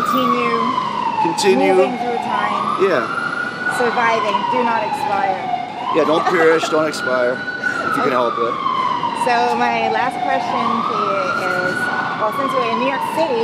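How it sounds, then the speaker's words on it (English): Emergency vehicle siren on a New York City street, a loud wailing tone that rises and falls in slow repeated sweeps under ongoing conversation between two people. "Oh yeah, that is a siren."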